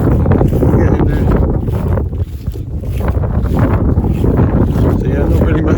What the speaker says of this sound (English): Hope it's not too windy because it's quite breezy today.